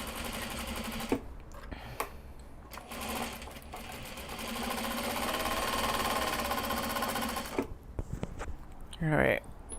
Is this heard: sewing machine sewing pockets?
yes